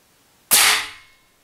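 A .25 caliber Airforce Condor air rifle fires a single sharp, loud crack that tails off quickly in a quiet space.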